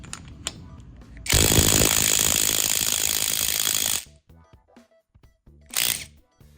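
A cordless battery impact wrench spins in reverse with a loud, close high-pitched whine and rattle for about three seconds, stops abruptly, then after scattered small clicks gives one more short burst.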